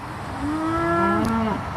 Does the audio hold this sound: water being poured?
no